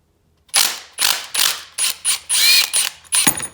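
A ratchet wrench clicks through about eight sharp, evenly spaced strokes while cracking loose a 12 mm bolt on a Yamaha YFZ450 quad, close and loud against silence.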